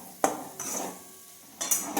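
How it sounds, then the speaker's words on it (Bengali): A splash of water hits ginger paste, cumin, coriander, turmeric and tomato frying in oil in a pan, giving short bursts of hissing sizzle with faint clinks from the pan. "একটু জল দিয়ে দিলাম মশলাটা যাতে না পুড়ে যায়।"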